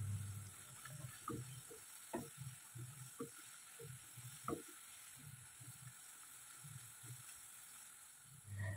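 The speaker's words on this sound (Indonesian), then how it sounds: "Lalu ini goreng kentangnya sampai matang, tapi jangan sampai kecoklatan" Potato fries for KFC-style crispy fries deep-frying in oil, a soft continuous sizzle with small bubbling pops, faint and steady.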